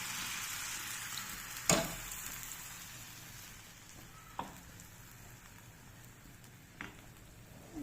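Batter for patishapta pitha sizzling in a frying pan on low heat, a faint steady hiss broken by a few sharp clinks or taps.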